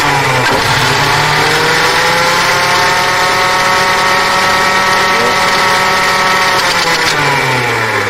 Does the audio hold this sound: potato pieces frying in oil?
no